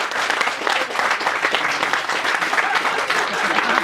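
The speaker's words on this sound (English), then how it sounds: "Give him a big round of applause, everybody, Phil." Audience applause at a hypnotist show, a dense, steady wash of many hands clapping loudly and evenly throughout, with no break.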